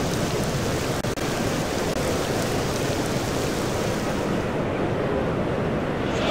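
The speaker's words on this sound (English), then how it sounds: "This is exactly the scene that every cricketer dreads. The rain beginning to pour down." Rain pours down steadily over an outdoor cricket ground during an England versus Ireland match, a dense, even hiss that stays constant throughout.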